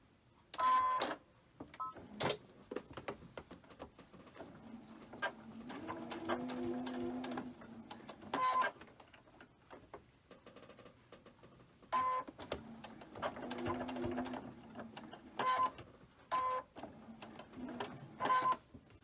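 A sewing machine stitches quilt pieces in several bursts of rapid, whirring motor hum separated by pauses, with short beeps from the machine between runs.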